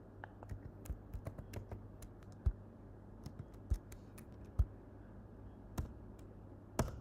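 C code being typed on a computer keyboard, irregular clusters of quiet key clicks with a few louder thumps, close and faint over a low background hum, no voice.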